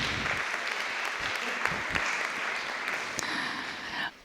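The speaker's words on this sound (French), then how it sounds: "On peut l'applaudir" Audience applause at a conference on women's burnout, a dense steady clapping that fills the room for about four seconds before cutting off abruptly, with a faint voice underneath.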